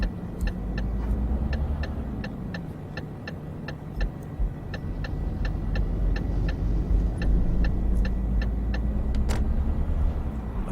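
A police car passes along a quiet rural road in Euro Truck Simulator 2, its engine hum rising and fading beneath a steady, evenly spaced ticking from the truck cab, with no speech.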